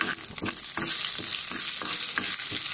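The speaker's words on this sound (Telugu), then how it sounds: "ఆవాలు మనకి చిటపట్లాడాలన్నమాట అప్పుడు మనకి పోపు మనకి వేగినట్లు" Mustard seeds, chana dal, cumin, dried red chilli and a pinch of turmeric fry in oil for a tomato rasam tempering, a close bright hiss with rhythmic stirring scrapes about twice a second.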